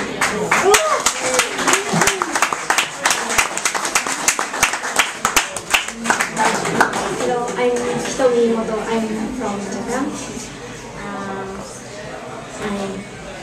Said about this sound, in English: Let's have a round of applause please for Hito Miyomoto